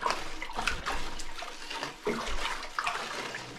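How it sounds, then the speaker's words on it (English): Sulfuric acid being stirred into water for feeding tomato seedlings, close sloshing and swirling liquid with splashy bursts and a brief pause midway, no talk. "Get that stirred in real good."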